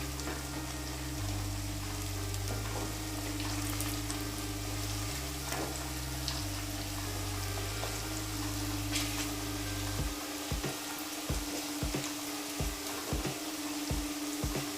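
A vegetable sizzles steadily in a pan over a high gas flame, a constant close hiss, with a low hum in the first part and scattered clinks of stirring later.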